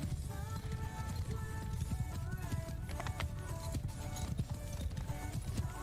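Horse hooves clip-clop steadily in the video game Bannerlord, a faint, even rhythm of hoofbeats under a busy in-game background with no speech.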